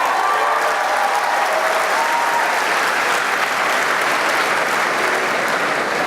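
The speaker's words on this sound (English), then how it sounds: "I never thought my wings would get a bigger applause than me at this thing" An audience of university freshmen at a BSU event fills the room with loud, sustained applause: a thick, even roar of many hands clapping, with no voices on top, throughout.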